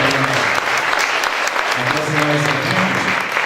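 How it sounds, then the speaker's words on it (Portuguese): Audience applause at a literary festival panel, loud continuous clapping from the crowd with murmuring voices and a few talking tones mixed in beneath it. "Um aplauso para o Jorge ali, me ajudou muito."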